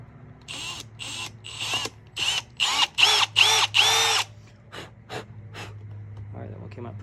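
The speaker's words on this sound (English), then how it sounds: "is to start with a small drill bit" A drill bores through a rubber free-dive fin foot pocket in several short bursts, starting and stopping, with breathing and soft handling noises between runs and a steady low hum underneath.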